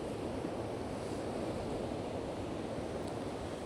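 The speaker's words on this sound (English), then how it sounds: "Today the sea is pretty rough, the wind is quite strong" Rough sea surf pounds the shore at Dunraven Bay while strong wind buffets the microphone, a dense, steady roar of waves and gusts with no voices.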